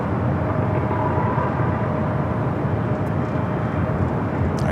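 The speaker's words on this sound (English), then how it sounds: "this is the Delta 767 at 300ER coming from JFK, Flight 767." A Delta Boeing 767-300ER airliner at Los Angeles International Airport gives a loud, steady broadband jet roar that holds at a constant level throughout, with no voices.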